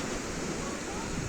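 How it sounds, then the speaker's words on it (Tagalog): Strong ocean waves at Nasugbu Beach in Batangas make a steady, dense roar of surf, broad and unbroken, heard up close without pause. "malakas talaga yung alon"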